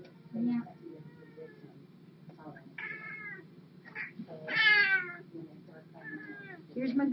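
A female cat gives several short, close meows while being lifted and carried, the calls spread across the moment over a steady low hum.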